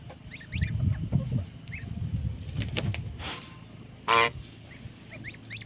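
Geese honk and chatter nearby amid low grunting and rustling, with one louder honk rising out near the end.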